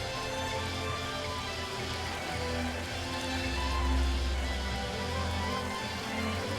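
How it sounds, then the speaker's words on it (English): Steady rainfall in the video game Xenoblade Chronicles 3, a continuous wash of droplets with a low rumble that swells briefly midway, heard alone without talk. "We found rain."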